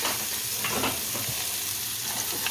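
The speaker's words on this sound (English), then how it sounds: "to that, we're gonna add our onions" Onions frying in bacon fat give a steady, close sizzle and crackle that fills the pan without pause.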